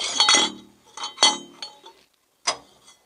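Breech of an M4A2E8 Sherman tank cannon being reopened: a few sharp metallic clinks and clanks in quick succession, then a brief pause and one more ringing clank, close and fairly loud with no talk.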